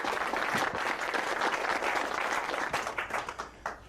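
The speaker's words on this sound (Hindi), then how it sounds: "रेमी के लिए तालियां बजाओ।" Audience applause for a speaker on stage at a game launch event, a dense steady wash of clapping that fills the room and then thins and tapers toward the end.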